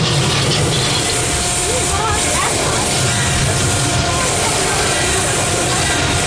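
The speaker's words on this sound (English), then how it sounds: "you just survived an encounter with Bruce, the mechanical shark from Jaws." Loud mechanical clanking and ratcheting grind continuously from the animatronic Jaws shark mechanism on the Universal Studios Hollywood studio tour, like heavy gears working nearby, with a busy background wash.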